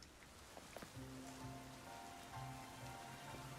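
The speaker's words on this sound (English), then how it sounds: "It's raining." Steady rain patters across the ground in the video game Pokemon Legends: Z-A, a soft continuous hiss beneath sustained tonal game music, with no one talking.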